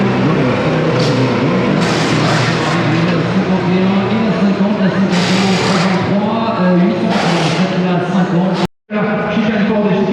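Aston Martin race car at the 24 Hours of Le Mans hyperpole session, its engine droning steadily at full throttle through the chicanes, with a brief cut near the end, under continuous excited French commentary.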